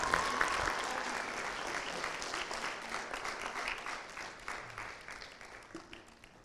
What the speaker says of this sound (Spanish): Un aplauso para todos estos artistas.